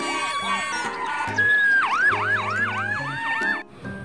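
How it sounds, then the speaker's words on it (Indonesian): A toy ambulance siren wails loudly and electronically in rapid rising-and-falling sweeps, layered over a synthesized melody from the same toy. "Wow, mobil ambulan."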